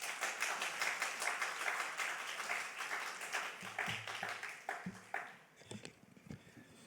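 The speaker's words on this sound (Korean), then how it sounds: "목사님 나오실 때 큰 박수로 환영하겠습니다" Audience applause welcoming a pastor at a university chapel service, steady moderate clapping from a crowd that thins and fades out toward the end.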